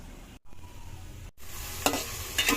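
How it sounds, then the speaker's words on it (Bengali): Prawns frying in a pan with onion, green chili and garlic paste, a steady close sizzle broken by two brief silences, with louder scraping stirs near the end. "এখন চিংড়ি মাছগুলোকে আগে আমি একটু কষিয়ে নিচ্ছি"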